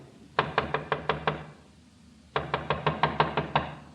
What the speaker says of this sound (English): Someone's trying the outside door.